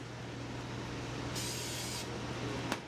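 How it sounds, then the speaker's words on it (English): Cooking spray hisses onto layers of sliced potato in one short, bright burst lasting under a second, over a low, steady kitchen hum. "So a little more spray"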